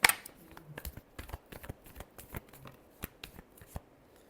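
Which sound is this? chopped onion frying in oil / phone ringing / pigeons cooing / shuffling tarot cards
shuffling tarot cards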